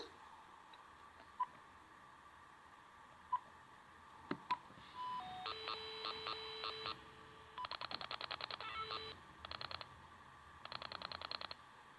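Telephone keypad tones beeping in quick bursts as a number is dialed, with a few sharp clicks and a long steady tone between the bursts, close and clear with no talking.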